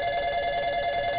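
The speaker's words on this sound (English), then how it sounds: "So my phone is ringing now, but I'm not going to answer it." A phone rings steadily with a sustained electronic tone, clear and unbroken under a quiet room hum, with no one talking over it.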